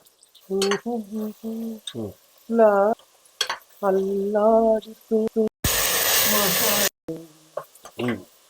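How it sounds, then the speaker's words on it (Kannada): Onion and garlic in a hot pan, with water added and stirred: a loud hissing sizzle lasts about a second between stretches of close-up talking. "ಹಾಕಿ ಸ್ವಲ್ಪ ನೀರ್ ಹಾಕಿ ಅಲ್ಲಾಡ್ಸಿ"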